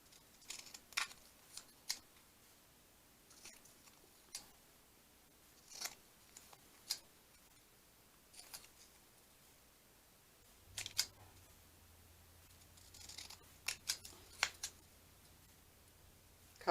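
Scattered sharp snips as scissors cut away brown parts, spaced irregularly with quiet gaps between, and a low hum entering partway through; nobody speaks.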